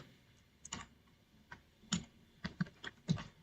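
Someone types a date into an Excel spreadsheet on a computer keyboard, producing a sparse run of light, irregular key clicks close by with short pauses between them, no talking.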